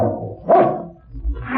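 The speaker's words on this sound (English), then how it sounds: "That's the dog." A single loud bark from a dog in a classic detective radio drama, close and prominent, with a low growling rumble before and after it.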